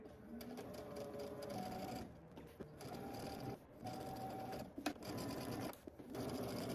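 A sewing machine back stitches fabric on a Simplicity pattern garment, running in short bursts of rapid stitching separated by brief pauses, quiet and close with no talking.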